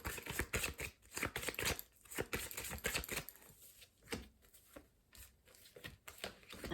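Tarot cards shuffled by hand at close range, a quiet run of quick crisp riffling and flicking that continues in uneven bursts with brief pauses, without talk.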